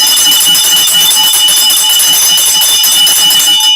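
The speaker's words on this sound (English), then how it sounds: "when you ring the bell, it sounds familiar" A bell rings continuously for a few seconds with a bright, sustained metallic clang, loud and steady with no talk.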